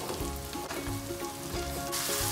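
Masala sizzling and frying in a pan with oil during preparation of Punjabi baingan bharta, a steady close crackle with faint stirring scrapes and no voices.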